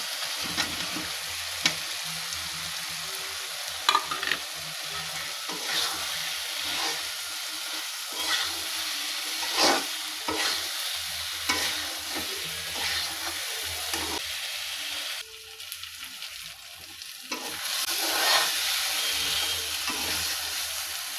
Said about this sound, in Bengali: এখন এখানে ভেজে রাখা ডিম আর আলুগুলো দিয়ে দেবো